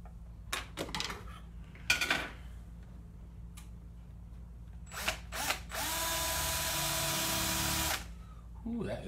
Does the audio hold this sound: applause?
no